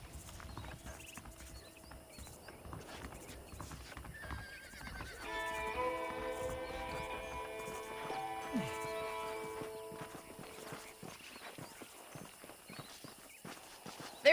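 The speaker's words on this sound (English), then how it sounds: "The horses are saddled up over here." Horse hooves clip-clop steadily in Red Dead Redemption as saddled horses walk, joined by a whinny and a sustained musical tone, with voices and background game ambience throughout.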